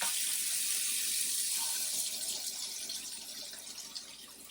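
Steady rushing of a faucet running into a sink, a continuous broad hiss that softens slightly toward the end, with no voices.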